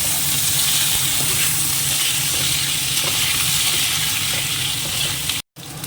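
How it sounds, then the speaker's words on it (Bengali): Loud, constant sizzling of radish and potato frying in a pan, with faint stirring, cutting out briefly near the end. "আলুটা ভাজা হয়ে গেছে মূলোটা দেবো"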